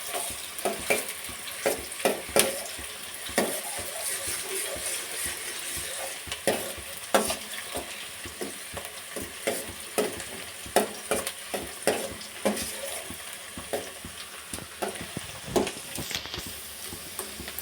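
Onions sizzle steadily in hot oil in a pan while a utensil stirs them in frequent scraping strokes, the frying hiss constant and close throughout.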